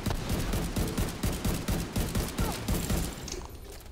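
Rapid SMG fire in The Division 2 during a PvP fight, a dense loud barrage of overlapping shots lasting nearly four seconds, with bursts pulsing in quick rhythm before tapering at the end.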